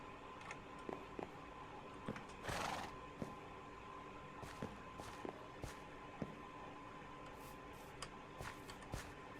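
A horse in the Minecraft video game gives a brief whinny amid soft clip-clopping hoof steps and ticking game sounds, faint and with no speech.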